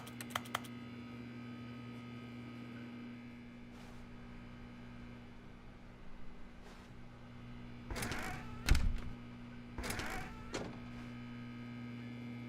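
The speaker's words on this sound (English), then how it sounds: "Or is my character just like carrying around a fucking keyboard?" Keyboard typing sounds play when interacting with objects in The Stanley Parable, coming as scattered bursts of quick clicks, the busiest clusters near the end, over a faint steady hum.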